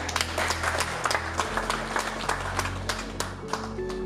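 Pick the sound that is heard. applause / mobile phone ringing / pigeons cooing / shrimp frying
applause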